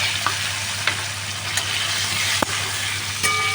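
Taro pieces coated with turmeric fry in hot oil in a kadai, a continuous loud sizzle with occasional sharp scrapes and clinks of a spatula stirring, close up with no talking.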